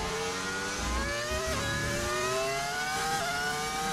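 A Formula 1 race car engine in the game F1 25 climbs and shifts through its revs, a loud, continuous high-pitched whine with rising pitch sweeps and gear changes, close and alone.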